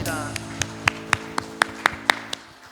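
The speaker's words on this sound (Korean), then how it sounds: "우리 주님께 감사와 영광의 박수 올려드리겠습니다" A church congregation gives rhythmic, evenly spaced claps in unison, about ten sharp beats over sustained organ or keyboard chords from a Sunday worship service.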